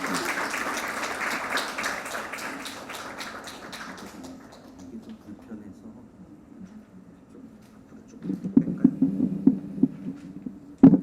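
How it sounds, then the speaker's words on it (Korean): Audience applause welcoming a professor to the podium at a forum on medical drug misuse, clapping that fades away over several seconds, followed by faint taps and a brief burst of handling noise near the end. "큰 박수로 환영해 주시기 바랍니다."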